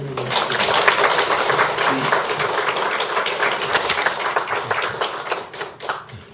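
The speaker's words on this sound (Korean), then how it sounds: "다시 한번 뜨거운 박수로 환영합니다" A large audience gives warm, sustained applause to welcome a university president as he takes the stage to deliver a sermon. The dense clapping rolls on for several seconds before easing off.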